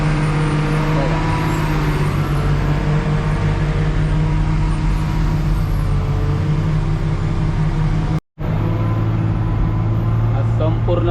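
A vehicle rolls slowly down a steep ghat descent on the Pune–Mumbai route near Lonavala, its engine a steady low drone with road noise throughout, briefly cut off near the end before resuming.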